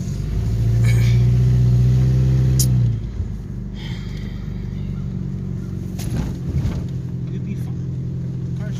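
A car engine running rough and close to stalling, a loud low drone that swells in the first seconds and then drops to a lower, uneven rumble, with people talking over it.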